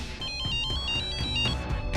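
A telephone ringtone plays loudly and steadily, a repeating electronic melodic trill pulsing in short bursts throughout, with no talk over it.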